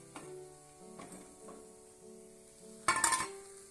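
Thattai vada (ottai vada) fries in hot oil in a pan, giving a faint steady sizzle broken by a few clinks of a utensil as the pieces are turned, then a brief louder burst of crackling near the end.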